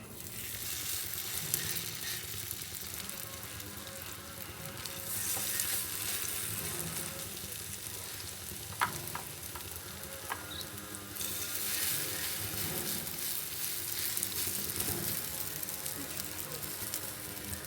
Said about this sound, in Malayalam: ഇനി ഒരു പാൻ വെച്ച് വെളിച്ചെണ്ണ ഒഴിച്ച് മാവ് പരത്തിയത് ഓരോന്നും ഇട്ട് കൊടുക്കാം